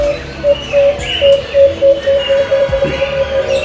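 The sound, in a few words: birds calling in a garden aviary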